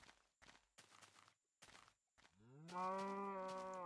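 In Minecraft Infdev, a few soft footstep thuds lead into a long, low, drawn-out cow moo that rises at the end, clear and fairly close in a quiet game scene.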